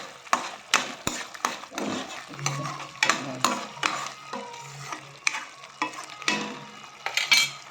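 Pavta and chavli beans are stirred in a cooking pan, with repeated scraping strokes over a soft frying sizzle that stays fairly close and steady throughout, and no talking.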